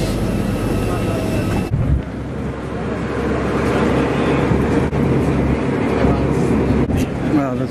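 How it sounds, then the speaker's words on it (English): A loud, steady roar of a large airplane at Bali's airport fills the scene, broadband and continuous, with voices talking faintly underneath. "Wow, that's a big plane."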